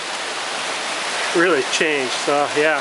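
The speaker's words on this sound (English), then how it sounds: "it is pouring right now" Heavy rain pouring outdoors at dusk beside a garden pond, a steady broadband hiss that holds throughout, with someone talking over it in the second half.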